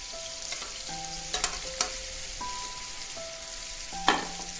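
Garlic, green chilies and ginger sizzle and fry in a pan, a steady soft crackle broken by a few sharp clinks and scrapes of stirring, with faint tones in the background.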